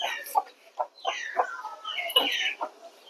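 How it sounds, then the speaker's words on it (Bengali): Farmyard chickens give a run of close, clear clucks and short calls in quick succession, nearly alone with no talk, as poultry and ducks are let out. "হাঁস মুরগিগুলোকে ছাড়ি"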